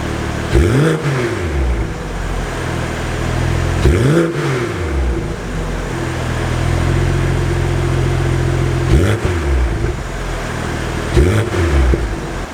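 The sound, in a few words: car engine revving, stock exhaust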